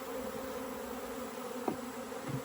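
Honeybees shaken down into a cup give a soft, steady droning buzz, faint and close, with a couple of small knocks and no voices.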